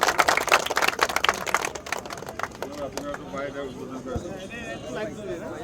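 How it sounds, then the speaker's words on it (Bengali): Spectators at a football match burst into dense, fairly close applause that thins out after a couple of seconds, while someone talks over the clapping and the crowd. "সবাই জোরে আর একটা হাততালি দেন, জোরে।"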